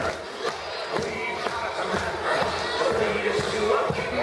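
A crowd at an Easter celebration at a Grecotel resort applauds and cheers, a busy mix of scattered claps and raised voices that grows slightly louder toward the end.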